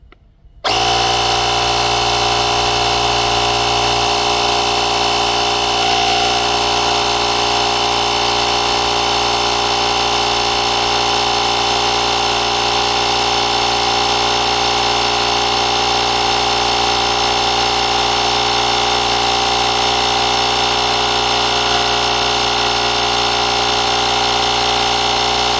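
A Gooloo A3 tire inflator kicks on and pumps up a car tire with a loud, steady mechanical drone and buzz that holds unbroken for over twenty seconds.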